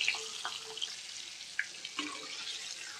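Stuffed green chillies sautéing in a pan with a little turmeric give a soft, continuous sizzle, with faint clicks and scrapes scattered through it.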